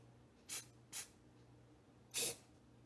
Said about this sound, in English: Spray a little bit of black gloss